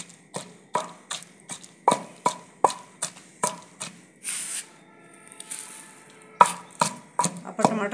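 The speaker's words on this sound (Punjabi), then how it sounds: "ਆਪਾਂ ਟਮਾਟਰ ਜ਼ਿਆਦਾ ਬਰੀਕ ਨਹੀਂ ਕਰਦੇ, ਮੋਟਾ ਮੋਟਾ ਹੀ ਰੱਖਾਂਗੇ।" Coarse chopping of tomatoes for a green chutney, a steady series of sharp knife taps on a cutting board with a brief pause midway, close and clear with no talking.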